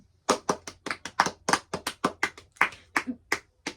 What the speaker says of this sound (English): not with the sarcastic claps